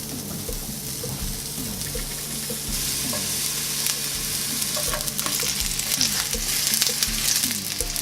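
Onion and garlic sizzle in olive oil in a hot cast iron pan, a steady broad crackle close up, with stirring scrapes and a rising hiss over several seconds.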